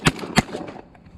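Two sharp shotgun blasts about a third of a second apart during a waterfowl hunt, loud and close, fading into quiet afterward.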